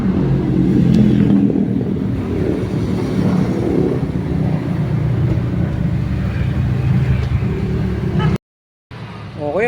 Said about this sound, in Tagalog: Okay, maandar ang makina niyan.